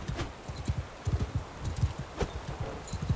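Horse hooves galloping in a rapid rhythmic clip-clop from the video game Mount & Blade 2: Bannerlord, steady and close with a faint whinny.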